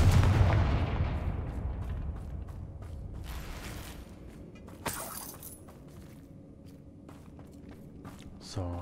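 Confringo fire spell blast in Hogwarts Legacy: a loud explosive burst at the start decaying into rumbling debris, with a second sharp crack midway amid creaking, footsteps and faint background game noise.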